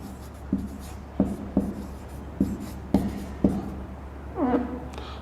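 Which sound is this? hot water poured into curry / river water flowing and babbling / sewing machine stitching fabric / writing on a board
writing on a board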